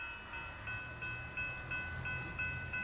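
A westbound Union Pacific priority freight train runs near an old Rock Island railyard, heard faintly from a distance as a low rumble with thin, recurring metallic tones and no voices.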